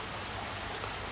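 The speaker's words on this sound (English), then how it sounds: "It's raining outside" Rain falls steadily outside, a dense, even hiss of drops with no breaks, heard alone at moderate level.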